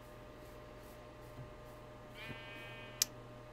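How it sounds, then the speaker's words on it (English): Faint sheep bleat in modded Minecraft, a brief harmonic call rising out of steady low background hum near the end, followed by a sharp click. "I'm getting distracted by the sheared sheep"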